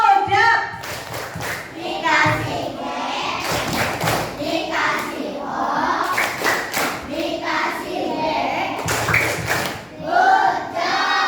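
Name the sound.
children clapping in classroom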